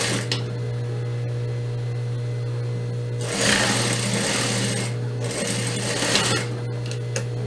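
A sewing machine back stitching a seam on a high-low skirt, running in a steady close hum with two louder bursts of stitching in the middle, no talk.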